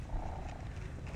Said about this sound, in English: She's purring so loud.